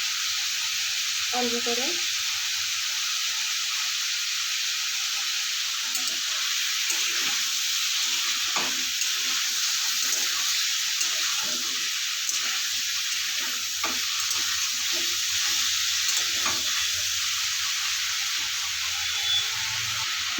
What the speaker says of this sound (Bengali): এইভাবে ভাজা ভাজা করে নেব